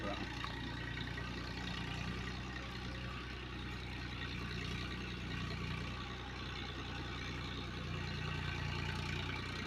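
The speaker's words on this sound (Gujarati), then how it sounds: "દેખાડો મને ટ્રેક્ટર" A tractor engine idles steadily, a low continuous rumble that stays even and fairly loud for the whole stretch with no change in pitch.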